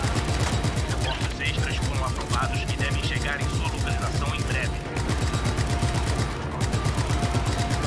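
Rapid automatic gunfire in the video game Just Cause 3, dense rattling bursts running nearly nonstop and loud, with someone talking over the shooting.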